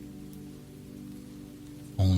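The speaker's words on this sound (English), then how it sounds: "Only the hush of rain" Steady soft rain falls as a continuous hush, then a louder sound cuts in at the very end.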